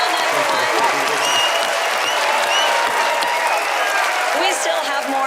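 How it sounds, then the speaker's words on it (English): A television studio audience at a magic competition show claps and cheers warmly for a birthday, a dense, continuous burst of applause with whoops and a few voices mixed in. "really warm happy birthday round of applause, everyone"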